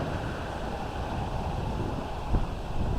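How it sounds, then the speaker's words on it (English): A strong gust of wind buffets the microphone during a thunderstorm at a cemetery, a dense, rumbling roar that holds steady and then surges briefly, with no talking. "Whoa, that's a big gust of wind."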